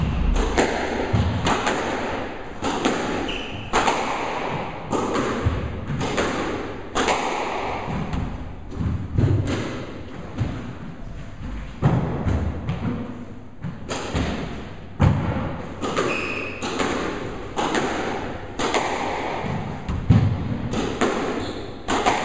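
Repeated squash shots with a Head YouTek Xenon CT 135 racket, sharp hollow thuds of the ball roughly every second or so, close and loud with echo in between, no talk.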